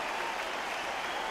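Arena crowd applauding in the Undisputed boxing video game, a steady dense wash of clapping and cheering that fills the space without a break, with no talk over it.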